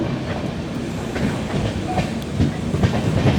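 Heard from aboard, the Duronto Express rumbles steadily as it runs onto a loop line, with wheels clacking in an even rhythm over a constant low roar, close and fairly loud.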